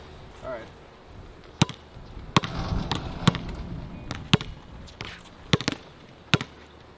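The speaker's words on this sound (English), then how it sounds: "Jeff, shoot some hoops, man." Basketball bouncing and thudding on an indoor court during a casual shootaround, sharp isolated bangs recurring every second or so over a dull room roar, with voices in the background.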